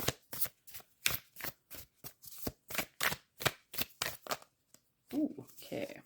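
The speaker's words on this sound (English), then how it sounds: "let's go ahead and give you a live shuffle on your Notes from the Universe cards" A deck of Notes from the Universe oracle cards is shuffled by hand in a rapid series of close, crisp riffling bursts, about a dozen in quick rhythm, with a short pause before the last few.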